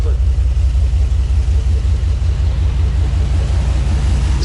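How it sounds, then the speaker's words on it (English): An LS-swapped Jeep engine idles roughly, a steady low rumble running close and constant throughout. "it's got a little bit of a rough idle"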